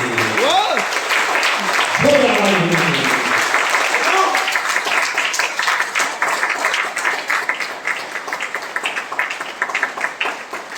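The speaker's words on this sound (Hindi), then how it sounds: "एक जोरदार ताली" Enthusiastic audience applause at an indoor Hindi-language training seminar, a loud, dense wall of clapping that carries steadily for about ten seconds, with a few brief vocal whoops near the start.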